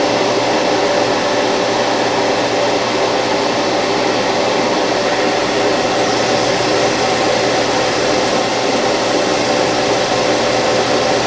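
Iwata Neo airbrush spraying Badger self-leveling primer, a loud continuous airy hiss that holds steady throughout, close by with no talking.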